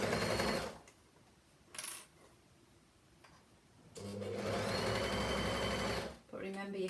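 A sewing machine stitches up the legs of children's leggings, running in loud sustained bursts with a brief stop-start in between and a long steady run near the end, alone without talk.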